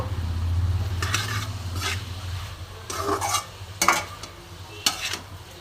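Radish greens with black mustard paste and a little sugar are stirred in a hot pan, several distinct scraping strokes cutting through a low sizzle, up close and with no talking.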